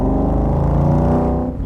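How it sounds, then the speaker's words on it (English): A 1965 Shelby Cobra V8 idles close by with a deep, steady, even rumble that holds level throughout and dips slightly at the very end. "listen to that thing purr"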